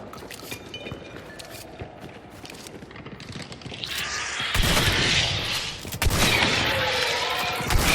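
Shotgun blasts in the game Hunt: Showdown, heavy booming bursts that swell from about four seconds on, loud and dense over a noisy background with clicks earlier.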